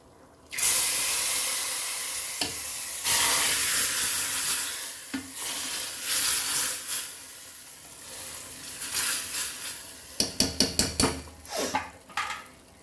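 Hot tadka is poured into a pot of dal makhani, black lentils, setting off a loud, sustained sizzle that fades, followed by a run of metallic spoon clinks from stirring near the end.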